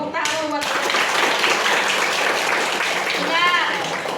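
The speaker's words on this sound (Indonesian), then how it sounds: "Tepuk tangan buat." Students in a classroom clap their hands together in a dense, steady burst of applause, close and loud, with brief voices heard at the start and near the end.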